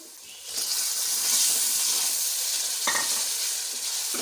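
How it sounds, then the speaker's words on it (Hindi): Masala with tomatoes and green chillies stirred in a hot pan, a loud, steady hissing sizzle that swells as ingredients hit the oil, with a brief scrape of the spoon, close up and without talk. "और हरी मिर्चें और इसको अच्छी तरह स्टर कर लेंगे"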